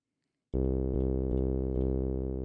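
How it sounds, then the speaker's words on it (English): A steady, buzzing saw-wave bass note from an Elektron Digitakt, tuned down an octave, starts abruptly and holds, rich in harmonics with a slight rhythmic pulse, playing alone. "Now you have this nice saw wave to work with."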